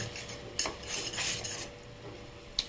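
A spoon stirring spicy masala in a pan, with soft scraping and rubbing strokes and a few sharp metal clinks against the pan, quiet and close with no talk.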